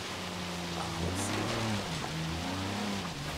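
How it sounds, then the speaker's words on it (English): Torrential rain in Forza Horizon 3 pours as a broad steady hiss, layered over a low droning car engine whose pitch rises and falls while driving. "There's really not many clouds in the sky, yet it's a torrential downpour."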